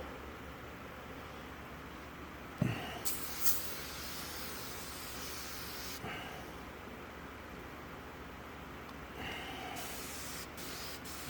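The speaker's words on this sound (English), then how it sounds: "So I'm just going to spray this and see if I get any bubbles" Faint hissing bursts of spray as a patched sealant leak is sprayed to check for bubbles, with a sharp click and a few brief knocks between the hisses.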